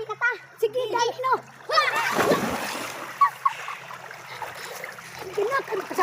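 Children splash while bathing in a river stream, with intermittent bursts of water splatter close by and kids chattering and calling out throughout.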